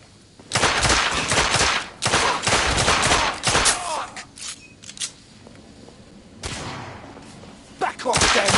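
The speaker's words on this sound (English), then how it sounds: "Shoot them! Kill them both!" Bursts of rapid gunfire in the Victorian-era shooter game The Order: 1886, loud clustered volleys of automatic shots separated by short pauses, with brief shouting voices mixed in.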